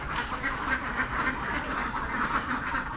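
A flock of laying ducks quacking steadily in a repeated, overlapping chorus on a Philippine duck farm, moderately near and continuous with no talk.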